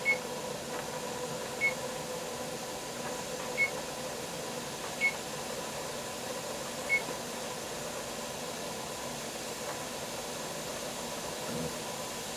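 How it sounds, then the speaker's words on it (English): Kitchen timer beeping during beef meatball canning, sounding as short isolated beeps spaced a couple of seconds apart over steady background hiss and hum. "Why am I having such a problem with my timer?"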